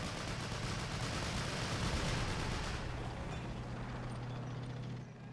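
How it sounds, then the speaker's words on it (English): A flak gun keeps firing in the Men of War: Assault Squad battle at the Brécourt Manor battery, a dense, loud roar of blasts that holds steady for a few seconds, then thins and fades toward the end. "Yep, that's a Flak. Still firing away."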